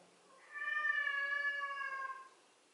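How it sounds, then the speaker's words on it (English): A pet cat gives one long, clear, drawn-out meow close by in a quiet room, rising and then fading away. "that's my cat."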